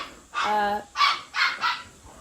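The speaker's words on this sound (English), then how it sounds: "You want to see the puppies?" Puppies on a farm bark in several short, high, close yaps, a yelping burst followed by three quick barks with brief gaps.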